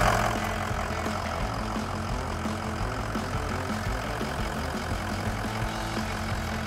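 A 2003-2007 Ford F-250/F-350 pickup's 6.0L Powerstroke diesel engine idles steadily nearby, a low continuous rumble with a faint rhythmic chug and no voices.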